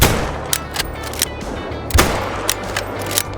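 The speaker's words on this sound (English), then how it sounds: "we're gonna start off here by taking shots on 2 moose with the 338 bolt action" A .338 bolt-action rifle fires in the hunting game Call of the Wild, with a few sharp cracks spaced apart over a low ambient rumble.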